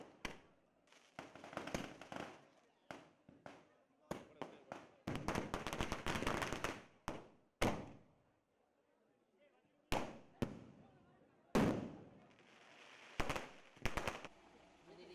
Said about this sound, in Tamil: பல்வேறு முன்னணி நிறுவனங்களில் பட்டாசுகளான கல்கத்தா என்ற 500 ஷாட் வெடி அறிமுகம் செய்யப்பட்டுள்ளது